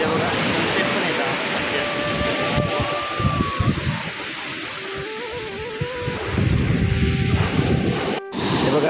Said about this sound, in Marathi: त्याच्यापेक्षा दुपटीन लाटांचा आवाज येतो।